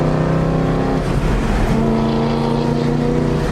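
A car engine revs and drops through a downshift at a Los Angeles car meet, loud and close, a steady harmonic drone that dips near one second and settles into a new pitch.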